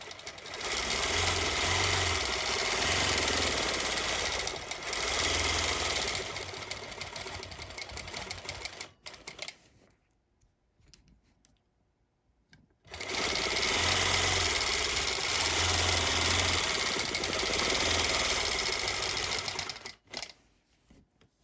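A longarm quilting machine stitches a chain-look pattern along a template, a rapid mechanical needle chatter in two long runs separated by a quiet pause while the machine is repositioned.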